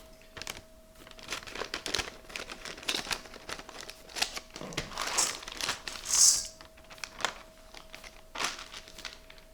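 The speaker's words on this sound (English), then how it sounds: "this is a 400 gram bag of sunflower seeds" A 400 gram plastic bag of raw hulled sunflower seeds is crinkled and handled close up, giving continuous rustling and crackling with a few sharper crunches.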